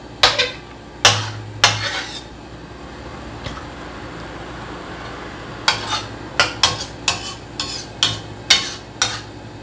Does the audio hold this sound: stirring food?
yes